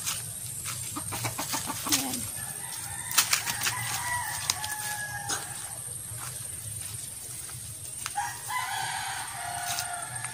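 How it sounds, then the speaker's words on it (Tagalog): Fighting cocks kept on a Philippine farm crow repeatedly in short bursts, with sharp clucks and other bird calls scattered around them, all set over a steady low background hum. "Mga alagang manok dito, mga panamang pangsabong"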